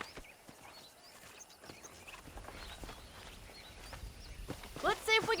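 Faint horse hooves clip-clop at a walking pace in the Red Dead Redemption video game, soft and steady under low ambient wind and birdsong, with a brief sharper burst of game sound near the end.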